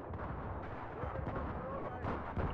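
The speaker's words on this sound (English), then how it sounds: "Man, I forgot how much fun rockets were to use on bad maps like this." Battlefield 3 multiplayer on the Grand Bazaar map, with rumbling rocket blasts and booming explosions rolling over one another, dense and low under faint voices.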